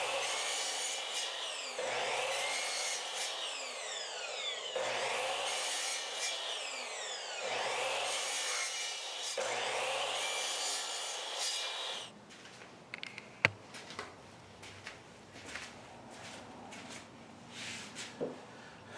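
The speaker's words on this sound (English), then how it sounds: "I'm bringing these boards over here to the chop saw, and the first thing I'm going to do is cut as many around 15-inch pieces" A chop saw cuts pallet boards into roughly 15-inch pieces in repeated loud whining passes, each ending in a short motor drop, several cuts in a row before quieter handling and clatter of wood.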